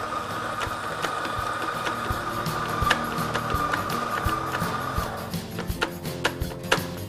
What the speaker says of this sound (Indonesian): Jadi saya sekarang mau giling dulu kopi.